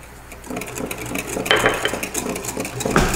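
A spoon clinks and scrapes against a bowl while heavy cream and pineapple are stirred together for cathedral window jelly, quick irregular taps close by, growing louder toward the end.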